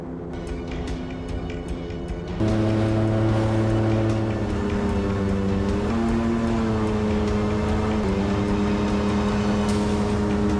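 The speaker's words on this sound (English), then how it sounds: "boat roars to life, cutting through the waves" A motorboat engine kicks in and drones loudly at a steady pitch, with a rumbling hum that shifts slightly as it runs.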